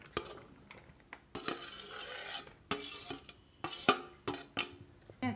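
Grated bottle gourd, potato and onion being stirred together in a bowl, giving a series of soft, irregular scraping and clinking strokes at close range with brief pauses between them.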